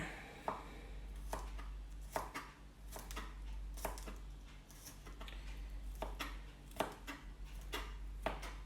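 Knife chopping garlic and onions on a board in a home kitchen, a steady series of sharp, close thuds at an irregular rhythm over a low constant hum, with no talking.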